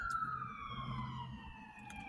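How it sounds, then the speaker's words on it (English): An ambulance siren wails in the distance, its tone sliding slowly downward, quiet but clear against a low background rumble. "Sorry about the sirens, y'all."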